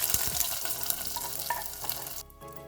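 Dried red chilies and curry leaves sizzle and crackle in hot oil for Kerala-style chakka erissery, a busy close frying hiss with scattered pops that drops away abruptly near the end.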